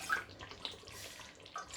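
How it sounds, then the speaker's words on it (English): Meat stock poured into a pot of tomato stew gives a continuous liquid splashing and trickling, fairly close and steady for under two seconds, with no talking. "I'm adding the stock first"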